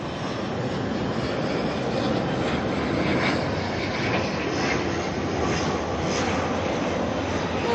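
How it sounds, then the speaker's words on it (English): An ATR turboprop arriving late at night at Auckland Airport gives a steady, loud engine drone that holds without a break from start to finish. "Little ATR, alright? Going for the late night missions."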